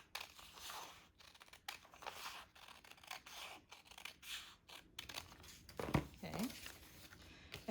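Scissors cut through paper along a seam allowance line while a collar pattern is drafted, giving a close, faint series of crisp snipping strokes and papery rustles in uneven rhythm, with a brief voice near the end.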